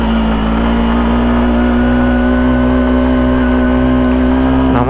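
Vehicle engine labouring up a steep hill in first gear on a mountain road, a loud, sustained strained drone at steady pitch, close and continuous.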